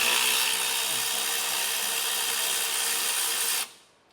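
A power tool with a 12mm socket spins out the parking brake cable bolt near the sway bar under a vehicle: a loud, steady, close buzzing whir that runs for about three and a half seconds, then cuts off abruptly.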